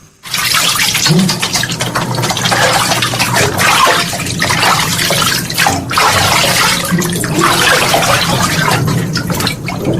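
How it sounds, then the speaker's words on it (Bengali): Water pumped up from a tubewell gushes down as a bathing shower, a loud, continuous splashing pour that runs steadily for the whole stretch, close by and with no one talking. "নিচে টিউবওয়েল থেকে পাম্প করে এখানে ধারা স্নানের ব্যবস্থা"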